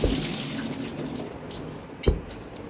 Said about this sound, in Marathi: तर डाळ स्वच्छ धुवून घेते।